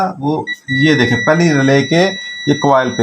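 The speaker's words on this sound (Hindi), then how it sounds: "बीप भी आपको सुनाई दे रही होगी" A multimeter on continuity test emits a steady, unbroken high beep while testing a Siemens burner controller relay coil, heard under someone speaking Hindi throughout.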